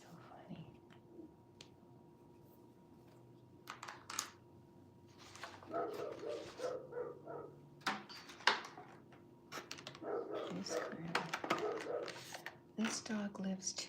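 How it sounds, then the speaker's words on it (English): A dog barking from two doors down, distant yappy barks breaking through close whispering and quiet rustling, with a few louder bursts near the middle. "This dog lives 2 doors down, you guys. So that's how loud this puppy is."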